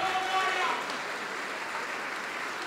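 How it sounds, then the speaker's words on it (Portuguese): Church congregation applauding in a broad, steady wash of clapping that fades slightly after the first second, with a voice briefly audible near the start. "E vamos aplaudir ao Senhor Jesus por cada vida que está chegando"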